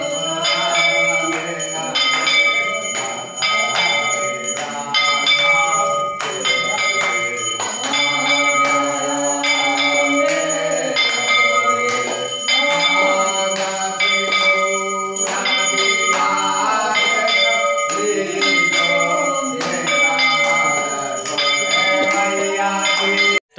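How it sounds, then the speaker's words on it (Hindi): Inside a Hindu temple during a Navratri puja, ringing bells clang in a steady, continuous rhythm, loud and close, with tonal ritual music and chanting layered throughout for over twenty seconds. "अंदर में पूजा हो रही है, आवाज़ आप लोग सुन रहे होंगे"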